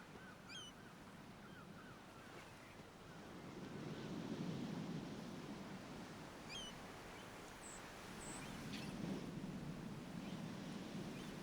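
Sea waves rolling in steadily, soft and distant, with two gentle swells of surf under a wind hiss and faint bird calls overhead, no voices.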